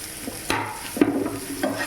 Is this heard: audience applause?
no